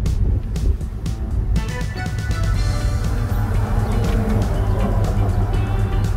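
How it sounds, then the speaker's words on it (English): Big-block-era 1968 Chevrolet Impala SS convertible with a 327 V8 cranks briefly, then catches and settles into a steady, loud, rumbling idle close by. "One pump, turn the key, starts up every time"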